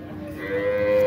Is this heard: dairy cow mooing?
yes